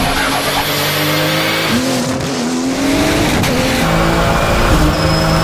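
Ken Block's Hoonicorn being driven hard during Climbkhana testing, a loud engine revving up and down with sustained tire squeal and skidding, close and continuous throughout.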